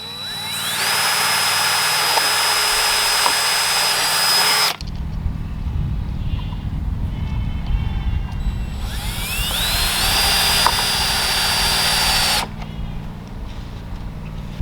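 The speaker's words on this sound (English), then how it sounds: "So I'm going to put 2 screws in here." A power drill drives two screws into a chicken feeder in two long whining bursts, each spinning up to a steady high pitch for about four seconds, separated by a lower rumbling pause; close and loud.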